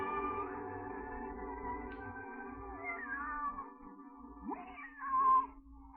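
A cat meows several times in a radio drama, its drawn-out, wavering cries rising and falling over a steady background hum, with the loudest, sharpest meow coming near the end.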